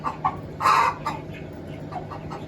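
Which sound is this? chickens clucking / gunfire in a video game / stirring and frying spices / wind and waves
chickens clucking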